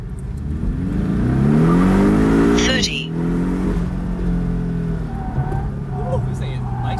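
A Porsche Cayman S with a PDK gearbox accelerates hard from a launch, its engine rising in pitch with a sharp upshift, loud and close from inside the cabin, with voices talking over it.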